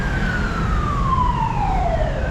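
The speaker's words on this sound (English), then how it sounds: "Ambulance is coming." An ambulance siren wails in a long descending sweep across a busy roundabout in Macau, loud and fairly near over steady traffic rumble, with no talk.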